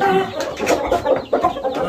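A rooster gives a short run of close, throaty clucks in quick uneven pulses.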